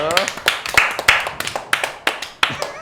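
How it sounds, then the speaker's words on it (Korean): A small group claps by hand, about a dozen sharp, close claps at an uneven rhythm, with voices in the background. "아 박수 한번 치죠."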